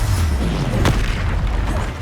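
A spell blast from Hogwarts Legacy lands as a single deep boom with a low rumble, set against a steady backdrop of game ambience.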